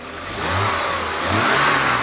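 An old fuel-injected car engine revs steadily and loudly at close range, the pitch swelling and dipping slightly through the rev with no voices.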